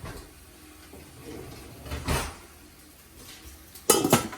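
A pan of chicken wings, cooked without oil, is slid into an oven, giving a short metallic clatter and scrape near the end after quiet kitchen ambience, with a softer clink earlier.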